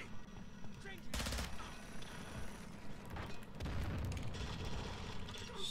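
Quiet bursts of gunfire come from the video game Call of Duty Modern Warfare 2, with two denser volleys over constant battle clatter and light talk.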